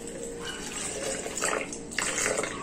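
Water pours into a blender jar holding chopped tomato and bell pepper, a soft, steady splashing and trickling up close that brightens in two short bursts toward the end.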